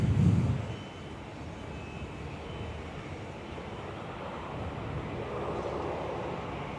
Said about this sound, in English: This one should be a turn and burn, Qantas 884.